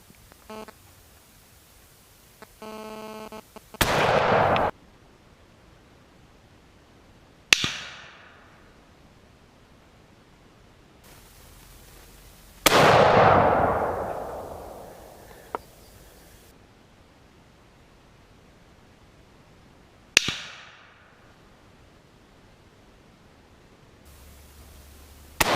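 A Remington 721 rifle chambered in .300 H&H Magnum fires four heavy, booming shots at irregular intervals, each with a long ringing decay. A fifth report starts right at the end, and no one speaks.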